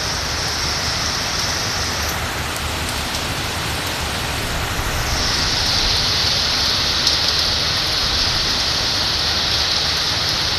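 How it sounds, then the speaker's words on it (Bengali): Steady rain falls with no wind in the Konabari Kashimpur area, a dense, even, loud hiss of drops on surfaces that continues unbroken with no voices. "শুধু বৃষ্টি, বাতাস নেই, শুধু বৃষ্টি হয়।"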